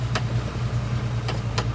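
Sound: tractor grading a dirt access road

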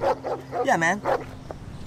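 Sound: dog barking

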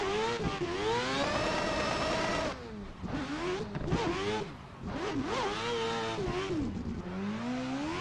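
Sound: Adam LZ 4 rotor Toyota A90 Supra engine on touge road

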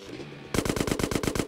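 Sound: gunfire in video game GTA San Andreas

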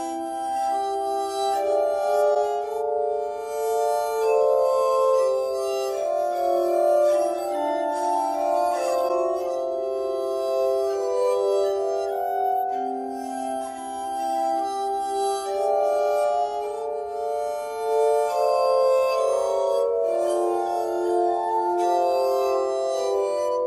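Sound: glass harmonica playing

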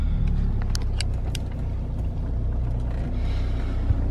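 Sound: BMW E60 car engine running

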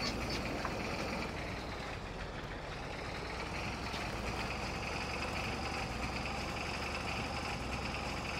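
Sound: tractor engine idling in a farming video game

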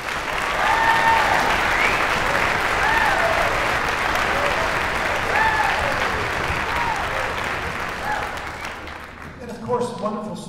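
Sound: audience applause for educators at concert

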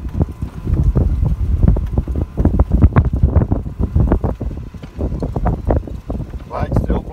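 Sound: wind blowing on a golf course

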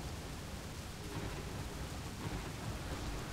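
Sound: thunder during storm in video game Cliff Empire

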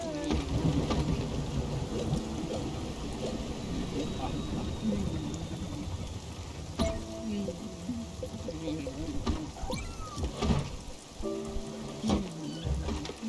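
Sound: thunderstorm with rain and lightning in Spiritfarer video game

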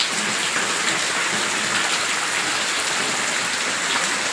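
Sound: heavy rain falling

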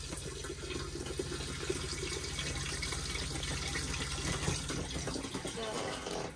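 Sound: flushing a motorhome cassette toilet

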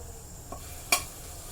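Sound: ginger-garlic paste sizzling in hot oil

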